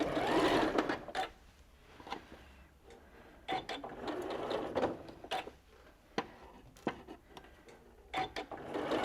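A sewing machine stitches a quarter-inch seam on a quilt block in several short bursts of rapid whirring, separated by brief pauses and soft handling clicks of fabric.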